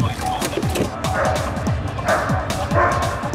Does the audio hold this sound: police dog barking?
yes